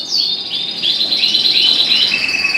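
Bright, rapid chirps and twittering from several birds in a bird room, loud and close, continuous overlapping calls with no voices.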